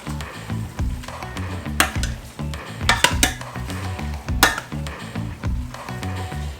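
A utensil folds shrimp, spaghetti, heavy cream and Parmesan together in a pan, making irregular scraping and clinking strokes over a steady sizzle, fairly close and loud.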